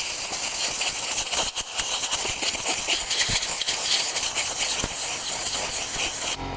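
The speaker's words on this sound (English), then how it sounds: "so just hit it with the compressor" A shop air compressor's nozzle blasts dirt off a dirty RC basher car, giving a loud, steady hiss of rushing air with brief sputters and dips, running nearly nonstop up close.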